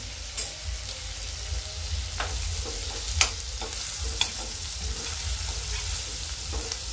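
Garlic, cumin and turmeric fry in a pan for traditional sorghum ghugrya. A low steady sizzle runs throughout, with occasional soft scrapes and taps of stirring. No one talks.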